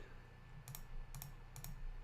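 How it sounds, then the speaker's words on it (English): Computer keyboard key presses while editing in Sony Vegas 12, three quick sharp clicks spaced about half a second apart, faint and close over a quiet hum. "So I'm going to push S on the keyboard to split it."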